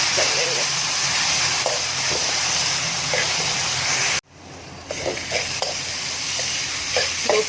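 Minced mutton keema with ginger-garlic paste fries in a pan for a peas keema, making a loud, dense, continuous sizzling hiss with stirring. The sound cuts out for a moment partway through, then resumes just as strongly.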